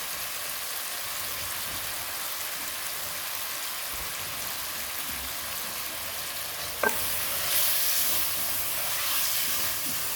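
Fried lauki (bottle gourd) sabzi and masala are stirred together in a pan, a steady loud sizzle and hiss with a sharp scrape of the spoon partway through, after which the frying grows slightly brighter.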